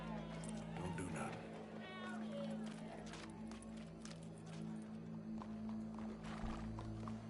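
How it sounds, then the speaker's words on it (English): Horse hooves clip-clop in a PS4 video game, a steady walking rhythm that runs under voices and a constant droning game soundtrack. "Go brush that horse"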